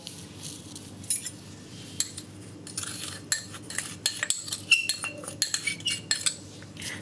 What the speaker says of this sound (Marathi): छानपैकी साखर मिक्स करून घ्यायची आहे